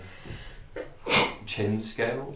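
A single sharp sneeze bursts out midway, loud and close, amid someone speaking before and after it.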